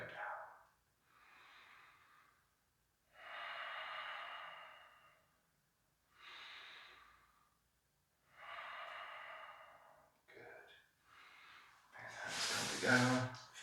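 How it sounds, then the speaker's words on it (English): Slow, audible breaths in and out during gentle qi gong movements, soft repeated exhalations spaced a few seconds apart, ending in a louder breathy rush. "Breathing in as the hands go up and out as they go down."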